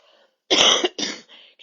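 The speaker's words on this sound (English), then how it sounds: "had this dry cough since I got back." Two short, dry coughs up close, one after the other, with quiet moments before and after.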